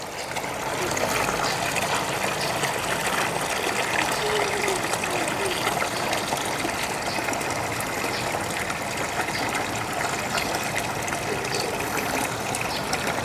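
Steady rushing water pours continuously from two one-inch taps into a tank, a dense unbroken gush that holds level throughout with no talking over it.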